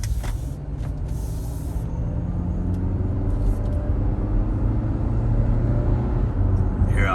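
A used Chevrolet Equinox-type car with about 124,000 miles on a test drive: steady, loud low engine and road rumble from inside the cabin, with a faint hiss and rattle, no talking.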